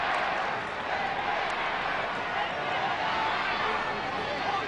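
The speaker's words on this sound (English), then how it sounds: "Crowd getting involved in this game." Crowd at a rugby league match at Brookvale, a steady distant murmur and hubbub from the stands continuing throughout beneath a commentator's voice.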